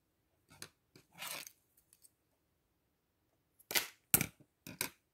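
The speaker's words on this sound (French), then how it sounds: "Là, je peux couper le fil." Scissors cutting thread while making album jewellery with small beads, a few brief, close snips and clicks separated by silence, with no talk.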